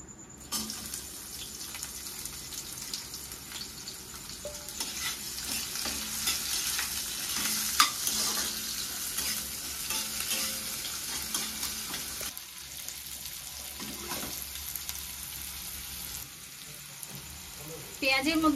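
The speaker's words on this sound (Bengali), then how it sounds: "এবারে দিয়ে দিচ্ছি পেঁয়াজ কুচি" Chopped onion fries in a pan with a dry chilli and cardamom for paneer kosa, sizzling steadily and faintly with occasional stirring scrapes throughout.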